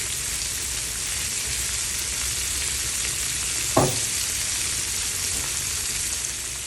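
Beef asado for a Kapampangan-style dish frying in a little added oil in a pan, giving a steady close sizzle with one brief louder crackle partway through.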